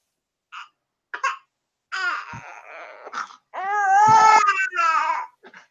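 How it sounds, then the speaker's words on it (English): Babies cry in short bursts that build into longer wailing cries, close and fairly loud, with brief pauses between outbursts and some babbling mixed in. "all the babies are crying"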